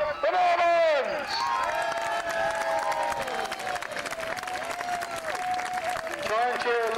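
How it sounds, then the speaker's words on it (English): A crowd at a historical grand parade at Kirby Hall claps and cheers steadily as costumed Norman soldiers pass, while an announcer's amplified voice speaks over the applause throughout. "Try and cheer a little bit louder"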